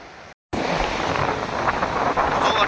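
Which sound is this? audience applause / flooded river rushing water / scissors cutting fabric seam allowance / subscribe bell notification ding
flooded river rushing water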